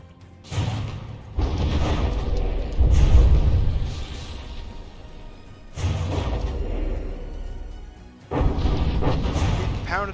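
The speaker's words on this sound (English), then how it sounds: "there goes that turret off the Blademaster, blown up by those HE" Heavy booming blasts from high-explosive shells striking warships in From the Depths, a Blademaster battleship fight, come in three long rumbling bursts separated by brief lulls, loud and close.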